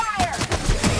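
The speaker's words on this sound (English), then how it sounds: "Open fire!" Gunfire in The Outer Worlds, a burst of rapid shots filling the second alongside a voice and swirling game sound.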